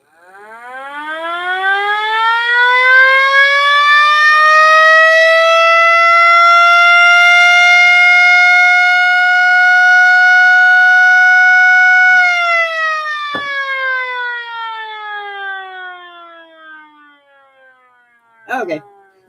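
A small 3D-printed mini STH-10 siren, running slightly high in pitch, winds up from silence into a loud sustained wail, holds it for about ten seconds, then winds down gradually; a short click near the end.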